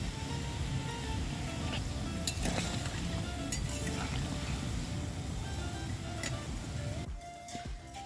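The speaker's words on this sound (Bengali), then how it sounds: "মুগের ডাল দিয়ে যে পিঠেগুলো করেছিলাম দেখো সেগুলো ভেজে নিচ্ছি" Mung dal rice-cake pithas sizzle and bubble as they fry in hot oil, a steady close crackling hiss that runs throughout and thins out near the end.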